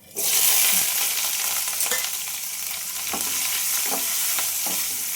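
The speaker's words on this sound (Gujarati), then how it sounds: "મરચાં થોડા સાતળી લેવાના મરચાં સતળાઈ ગયા છે" Green chillies sauté in hot oil with mustard seeds, fenugreek and hing, a loud bright sizzle that flares up at once and holds steady, with occasional soft spoon taps.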